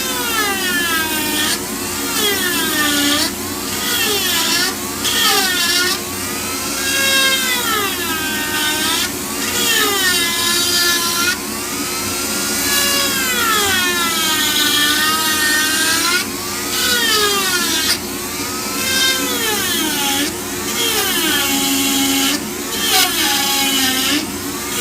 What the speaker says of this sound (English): See how I never stop the burr when it's in a channel like this?